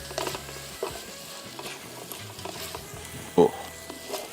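Garlic, ginger and tomato frying in a pan on high heat for biryani, a steady low sizzle with scattered stirring scrapes and one sharper clatter near the end, no voices.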